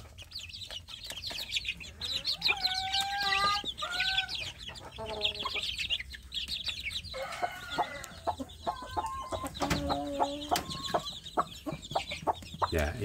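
Many free-range village chicks (ayam kampung) peep in high, rapid chirps with some lower clucking mixed in, a busy, continuous chorus close by.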